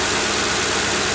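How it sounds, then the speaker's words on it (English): A brief close-up of a Ford Crown Victoria engine idling, with a fast, even ticking from the fuel injectors running through the steady hum. "That's the fuel injectors making that ticking noise."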